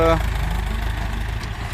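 A Ford 7740 tractor engine works under heavy load while grading tree stumps, giving a loud, steady, close low rumble that holds throughout.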